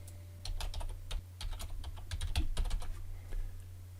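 Typing a name on a computer keyboard, a quick irregular run of light key clicks, close and fairly quiet over a low steady hum.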